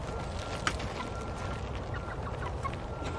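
Chickens cluck softly in the background amid a low, steady ambient hum, with scattered short calls spread across the clip.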